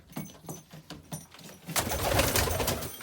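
Pigeon-like birds coo softly in a coop at night, a few low throaty calls near at hand before a burst of rustling and wing flapping takes over.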